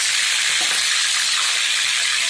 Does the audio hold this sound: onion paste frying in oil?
yes